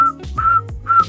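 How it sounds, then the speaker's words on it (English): A person whistling alone, three short clear tones separated by brief breaths and mouth sounds, close and fairly loud. "I taught myself how to whistle."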